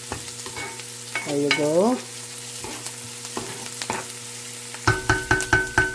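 White onions fry and slowly caramelize in a pan, a soft continuous sizzle beneath brief spoken words, a sliding tonal sound and a run of sharp clinks toward the end.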